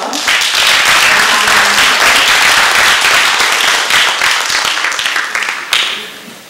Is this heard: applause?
yes